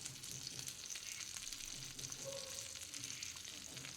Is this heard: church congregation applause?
no